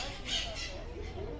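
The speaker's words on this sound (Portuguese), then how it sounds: "Papagaio." A caged parrot at a park zoo in Campinas gives a brief harsh squawk or two, fairly faint amid background murmur and voices.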